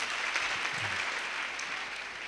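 A church congregation breaks into steady, dense applause that holds evenly throughout, easing off a little toward the end.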